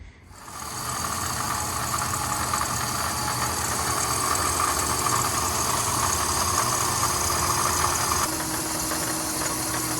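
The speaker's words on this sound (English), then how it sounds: "I can hear my belts a little bit louder, and there's a rattle going on as well" A Jeep Grand Cherokee engine idles loudly and steadily after starting, a dense mechanical drone carrying belt whine and a persistent rattle, heard close with no talking.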